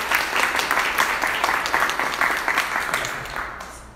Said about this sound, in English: Round of applause for Mr. Diamond here.